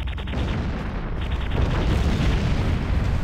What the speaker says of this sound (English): I think I drew the elite into the explosion.